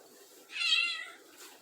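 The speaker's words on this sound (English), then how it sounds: "So, anyway, I got a new kitty." A young kitten lets out a single clear, drawn-out meow close by in a quiet room, followed by a faint shorter sound.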